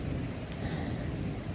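Thunder during a big storm makes a low, sustained rumble mixed with steady rain, moderately loud and continuous with no voices.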